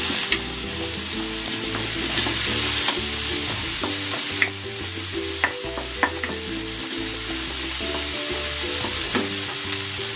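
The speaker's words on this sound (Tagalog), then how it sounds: "Ilalagay ko na rin tong sibuyas. At ang kamatis." Onion and tomato sauté in a pan with a steady, close sizzle, broken by scattered clicks and scrapes of stirring, with no voices.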